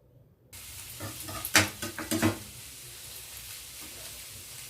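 Cluster beans and moong dal being stirred in a steel pan, a few scraping, clattering strokes close by over a low sizzle, the stirring burst lasting about a second before settling back into quiet frying.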